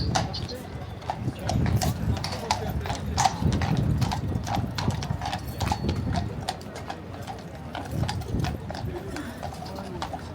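Horses of the King's Mounted Bodyguard clip-clop on pavement at the Changing of the Guard at Buckingham Palace in London, a steady stream of hoofbeats under crowd chatter and voices.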